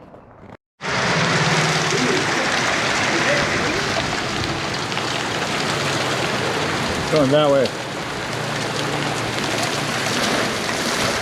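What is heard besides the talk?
rain falling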